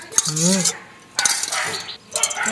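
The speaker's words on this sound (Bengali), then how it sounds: "দিয়ে তেঁতুল জলটা গুললাম" Spoon stirring tamarind into water in a bowl for aloo chaat, with brief clinks and scraping in short bursts, close by, alongside a few seconds of a voice.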